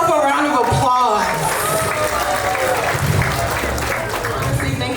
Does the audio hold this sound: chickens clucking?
no